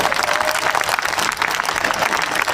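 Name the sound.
audience applause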